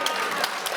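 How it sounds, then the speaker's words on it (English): Brief applause from an audience at a fall convening, a soft, steady patter of many hands heard from a distance, fairly faint and lasting under a second. "And I appreciate that applause"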